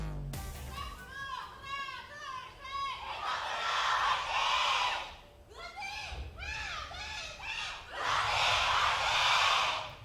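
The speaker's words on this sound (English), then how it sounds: "the passion from this crowd here in the Soli Stadium" A stadium crowd at an Overwatch esports match roars and cheers in loud swelling waves. A commentator's excited voice rises over the noise in several bursts.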